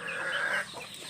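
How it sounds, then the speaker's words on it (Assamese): Kadaknath rooster and other chickens at a local poultry farm in Assam, with a sustained close clucking call followed by softer fowl murmurs, fairly loud and without talk. "এই মতাটো যে এইটো হৈছে কদকনাথ।"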